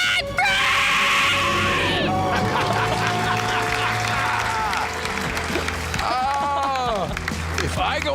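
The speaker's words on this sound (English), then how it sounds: "Let's hear a debt-free scream." A radio show caller shouts an ecstatic debt-free scream, a loud high-pitched voiced yell that breaks into excited cheering, with studio voices and applause-like noise around it.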